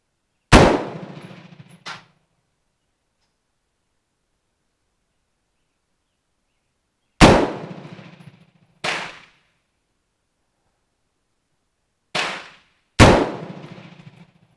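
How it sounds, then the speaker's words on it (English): Five sharp rifle shots from a Colt M4 police trade-in fired at a middle target outdoors, loud and close, spaced irregularly with long silences between, the last few coming in quicker pairs. "I made another adjustment, and I'm shooting the middle target"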